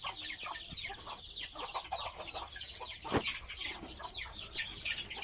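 A flock of ring-necked pheasants clucks and chatters steadily, with overlapping calls and one sharp snap partway through.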